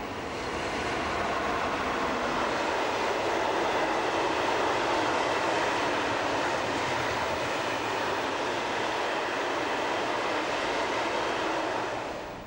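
A DB class 140 electric locomotive hauling a train on a line along the Rhine rolls past with a loud, steady roar of wheels and rail noise that holds evenly and fades slightly at the end.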